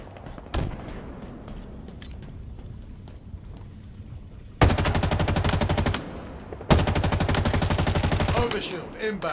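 Automatic weapon fire in the video game Halo Infinite during a capture-the-flag match. A couple of sharp single shots come first, then two long, loud, rapid-fire bursts with a short gap between them.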